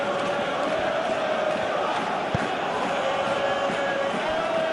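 A stadium crowd murmurs and roars steadily in a Football Life 2024 club friendly between Farense and Al Nassr, a broad continuous wash of fan noise with one faint thump partway through.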